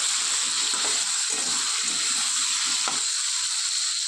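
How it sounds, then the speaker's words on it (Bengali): Pumpkin and potato pieces frying in a pan for a pumpkin, potato and pointed gourd curry, giving a steady, even sizzle throughout with a few faint clinks of stirring. "এবার চলুন কুমড়ো আলুটা খুব ভালো করে ভেজে নিয়ে আসছি।"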